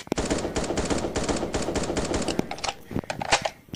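Rapid bursts of gunfire from the shooter game 1v1.LOL crackle in quick, dense volleys with brief gaps, loud and close throughout.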